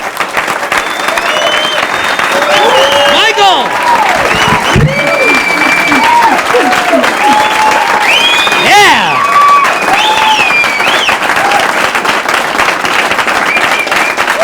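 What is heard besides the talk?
comedy club audience applause and cheering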